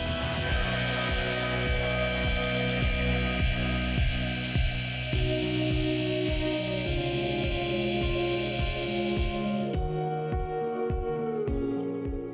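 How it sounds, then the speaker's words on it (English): A car paint polisher whirs continuously at close range, a steady motor whine with a rhythmic pulsing wobble as the pad works across the paint, before cutting off abruptly near the end and leaving a faint fading hum. "making sure that my polisher continues to spin as it should"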